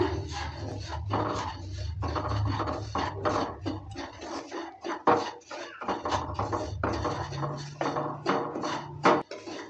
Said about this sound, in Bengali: সুজিটা দেওয়ার পর ভালো করে নেড়ে চেড়ে নিচ্ছে